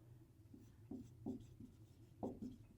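A pen scratches faintly across paper while working a math problem, giving a few short, soft strokes in an irregular rhythm against quiet room tone, with no talking.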